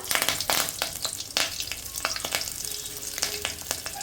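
Panch phoron five-spice, half a bay leaf and a green chili frying in hot oil, a loud steady sizzle with frequent crisp pops and crackles throughout.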